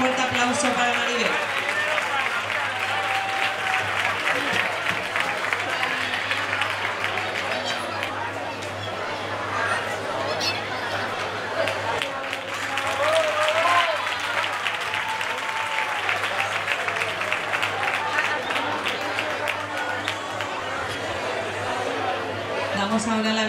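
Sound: audience applause for Maribel

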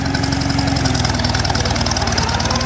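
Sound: vintage tractor engine running with throttle raised

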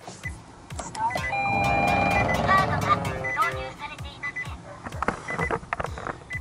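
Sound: Nissan Leaf side mirror folding with a faulty noise

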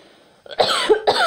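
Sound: cough

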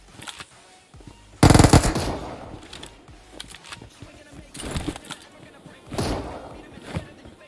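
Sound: gunfire from a video game, PUBG Mobile

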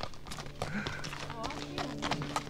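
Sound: horses walking, hooves clip-clopping

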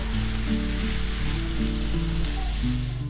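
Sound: onions frying in a pan

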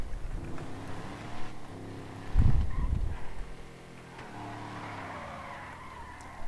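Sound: car skidding in video game GTA roleplay

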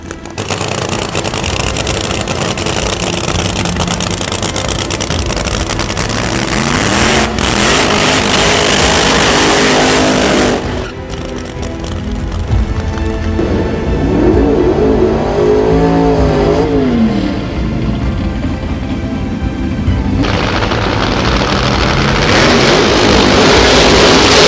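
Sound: Suzuki drag racing motorcycle doing a burnout

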